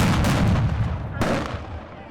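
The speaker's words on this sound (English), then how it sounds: "Some fired fireworks at law enforcement." Fireworks fired at law enforcement during protest clashes, loud blasts and booming bangs, a sustained burst followed by a second sharp report, close and echoing.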